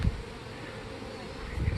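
Honeybees buzz steadily in an open hive during an inspection of a colony with an old, superseding queen, a dense close hum that holds for under two seconds with no voices.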